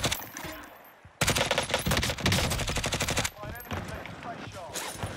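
Rapid automatic gunfire bursts loudly in a first-person shooter match, dense volleys filling the middle of the span before dropping back to quieter game ambience.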